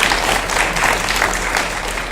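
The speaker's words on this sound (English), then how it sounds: "give yourselves a round of applause" An audience at a Sacramento County District Attorney debate claps in a steady, dense round of applause that stays even in loudness for the full stretch.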